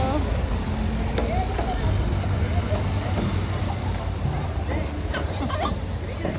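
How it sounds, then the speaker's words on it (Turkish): A bus drives past on a road beside a seaside park, its steady engine and traffic roar filling the scene while a child and adults chatter nearby. "Otobüs gidiyor."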